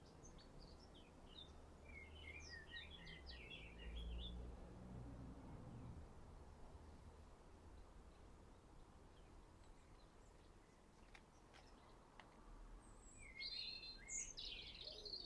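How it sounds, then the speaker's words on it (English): Outdoors on a wooded landslip slope, a blackcap gives bursts of quick chattering song at moderate distance, with another bird calling faintly near the end over a quiet background hiss. "The chattering is a blackcap."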